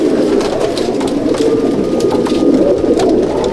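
Pigeons of a Chennai/Andhra Madrasi breed cooing and fluttering together in a loft in Howrah, a dense, steady bed of close bird sounds with no talk over it.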